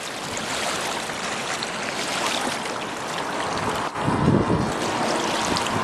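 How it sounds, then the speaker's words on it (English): Strong wind gusts across an open lake whipped into whitecaps in the Pine Barrens bog park, a steady loud broadband roar with choppy water, swelling briefly after a short dip near the end. "it's windy, you see like whitecaps on the lake"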